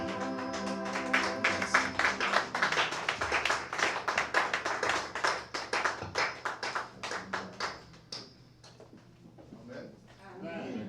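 A church congregation claps through a worship service, rhythmic hand claps over music and voices, loud and steady before thinning out toward the end.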